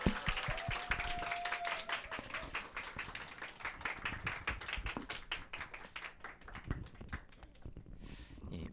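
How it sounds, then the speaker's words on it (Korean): A youth-group congregation at a Korean church Sunday service breaks into sustained, dense applause, many hands clapping close and steady for several seconds before thinning out near the end. "다시 한번 큰 박수 드리겠습니다."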